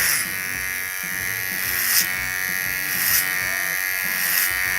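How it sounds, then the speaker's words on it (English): An electric hair clipper cuts hair using the clipper-over-comb technique, starting at the nape. It gives off a close, continuous, strong buzz with small regular pulses as it moves through the hair. "I'm going to start working from the nape at a 45-degree angle with my clipper over comb"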